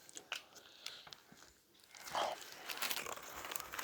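Biting and chewing into a Taco Bell cheesy gordita crunch, with close crunchy bites and chewing that build in loudness toward the end, no talking.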